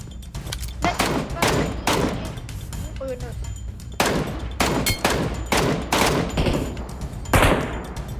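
Rapid bursts of PUBG Mobile gunfire, loud and repeated, firing in quick volleys with short gaps, over a constant low background hum.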